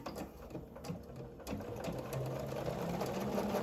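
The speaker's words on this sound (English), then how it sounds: "So I'm just going to sew one long seam there." A sewing machine runs one long seam along a placemat with a quarter-inch allowance, making a steady close whir throughout with a slight rise in intensity toward the end.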